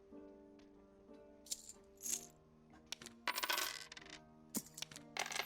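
Coins clink repeatedly as gloves are sold in the Dark and Darker video game, with several bright metallic jingles in irregular bursts, close and clear over a faint steady background hum.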